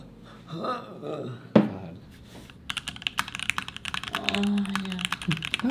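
Keys on a custom mechanical keyboard clack in quick bursts of typing, close and crisp, with people talking over the first part.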